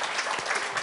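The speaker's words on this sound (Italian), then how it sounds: "Io farei un applauso." Applause for second-place relay riders at an equestrian event in Verona, a short steady wash of clapping from a crowd, fairly loud and continuous throughout.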